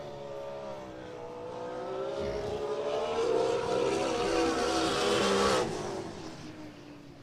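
A turbocharged drag racing car makes a pass, its engine swelling from a distant whine to a loud, roaring, rising howl that peaks and then fades as it passes.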